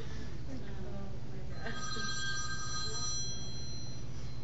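A telephone rings during a classroom math lecture, a sustained electronic bell tone heard at moderate distance under ongoing room noise and voices.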